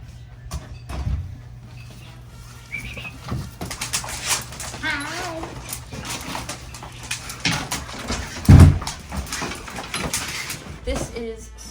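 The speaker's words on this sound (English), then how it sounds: "I'd like you to meet my dogs." Alaska husky sled dogs whimper and whine in short, restless bursts close by, mixed with soft thumps, rustling and door sounds and one heavy knock, while a person talks at times.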